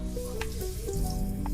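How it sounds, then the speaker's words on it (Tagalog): Onions and garlic sauté in a hot pan for adobong sitaw, a close steady sizzle with a few soft stirring scrapes, no talking. "Start na tayong mag-gisa ng sibuyas at bawang."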